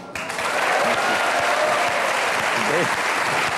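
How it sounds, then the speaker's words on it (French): Dense applause from a live comedy audience, steady and loud throughout, with a few voices briefly audible over the clapping. "C'est gentil d'applaudir"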